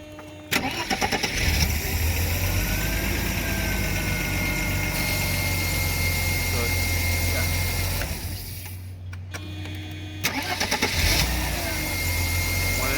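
A 1989 Mercedes 190E with the 2.6L engine starts up and settles into a steady idle, with a brief break in the running partway through before it picks up again, heard close.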